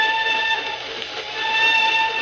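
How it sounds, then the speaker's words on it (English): A drawn-out steam train whistle used as a sound effect in a 1940s radio drama sounds as a steady, multi-toned chord from start to finish, moderately loud and slightly distant, over a low rumbling bed with no voices. "I always says there's nothing so lonely as a train whistle going along across country"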